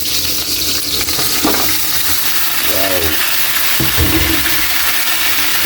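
Steady loud sizzle of pork leg frying in a pan for pork humba, continuous crackling throughout with brief clinks of utensils.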